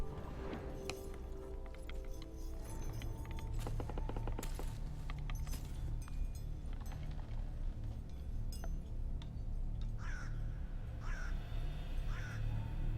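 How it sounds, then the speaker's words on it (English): Several crows caw in the distance in the video game The Witcher 3: Wild Hunt, over a low droning background with scattered clinks and clatter, the calls coming in short repeated bursts. "I hear some crows or something."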